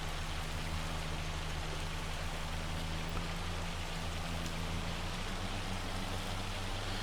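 Hail falling in the video game Farming Simulator 25, a dense, steady hiss of pelting ice heard alone at an even level throughout.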